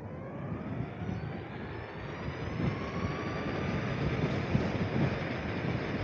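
An ACEDECK NOMAD N3 electric skateboard with an unbalanced tire at full throttle, a steady rising motor whine over constant rumbling wheel and road noise, no talk.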